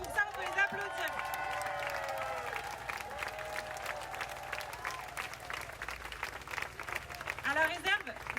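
A room full of people at a left-wing campaign meeting in Marseille applauds its volunteers with steady mixed clapping and some cheering, a voice talking over the noise at the start and again near the end.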